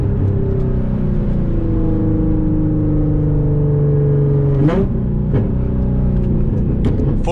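A tuned Nissan 350Z NISMO rated at 350 wheel horsepower accelerates hard with a loud, rising engine roar, cuts off abruptly at a gear change, then pulls again with a few sharp clicks.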